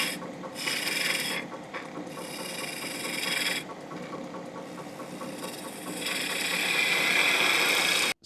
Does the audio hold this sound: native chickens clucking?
no